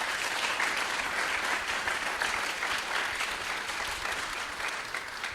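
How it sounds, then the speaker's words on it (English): An audience applauds Senate candidates Nick Albares and Gary Crockett at a Ruston roadshow, a dense, sustained clapping from a crowd that fades slightly toward the end. "Let's give these gentlemen a round of applause."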